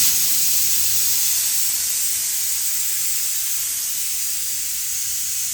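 A pressure cooker vents steam in a steady loud hiss, close and unbroken, slowly easing off.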